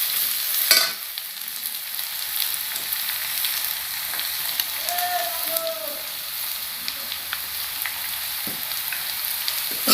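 Spices frying in a pan for mutton curry, a continuous close crackling sizzle with a few louder scrapes and knocks as they are stirred, steady throughout.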